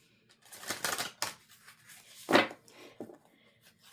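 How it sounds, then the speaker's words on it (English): A deck of cards being shuffled close by, several quick riffling bursts and soft taps, faint overall with short pauses between. "I'm feeling called to shuffle 3 times."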